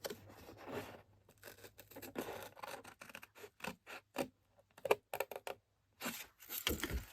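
Close, quiet snips and crisp scraping of scissors cutting paper, coming in short irregular bursts separated by brief silences.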